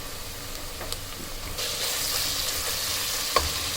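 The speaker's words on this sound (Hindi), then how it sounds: "मसालों को भून लिया" Spices and onions frying in a pan with a little water while bitter gourd sabzi is cooked, giving a soft hiss and sizzle with occasional stirring clicks that grows louder partway through.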